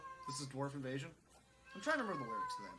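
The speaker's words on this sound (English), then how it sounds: "That's my cat." A pet cat meows loudly in a few drawn-out cries, tangled with someone talking over retro Genesis game audio.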